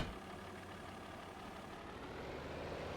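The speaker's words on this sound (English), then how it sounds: "I'm hoping this tractor can pull this plow." A vintage tractor pulling a plow in Farming Simulator 25, a steady low engine drone that rumbles evenly and quietly throughout, with no talking.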